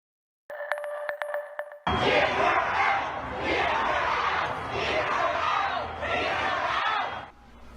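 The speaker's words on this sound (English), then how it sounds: "That crowd there chanting," A crowd gathered at a building collapse rescue site chants "Get her out" in loud, rhythmic, repeated shouts, swelling and easing over several cycles, after a brief stretch of electronic tones.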